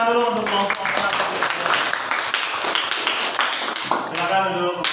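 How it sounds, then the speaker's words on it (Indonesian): Students in a classroom applaud a presenting group with steady, moderately loud clapping that runs throughout, overlaid with voices talking. "Kasih tepuk tangan dulu untuk kelompok"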